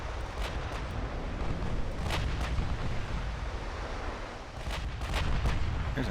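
Naval gunfire and shell hits on the battleship Oklahoma in the video game Ultimate Admiral: Dreadnoughts, heard as a continuous rumbling barrage with several sharp booming impacts layered through dense low roar.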